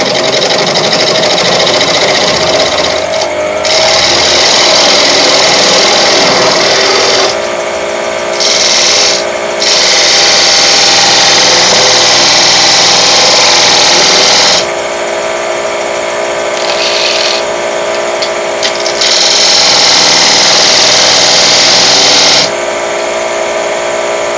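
Wood lathe turning a tenon on a workpiece end to fit a small chuck, a steady loud scraping hum of the tool against spinning wood, with brief pauses and shifts in pressure throughout.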